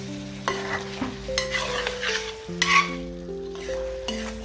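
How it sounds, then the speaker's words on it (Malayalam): Chicken biryani masala sizzles in a pan while being stirred, giving a continuous close frying hiss with scraping stirs throughout and no talking. "ഇളക്കി യോജിപ്പിക്കാം. ഇളക്കൽ ഇതിനൊരു പ്രധാനമാണ്."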